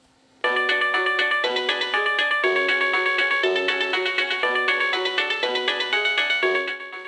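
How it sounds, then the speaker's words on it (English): Tetris in-game music on a Mac Classic, a bright beeping melody of steady chiming notes played through the computer's small speaker and picked up by a microphone held close, with no talk. "This is clearly how the in-game music is supposed to sound when it's working properly."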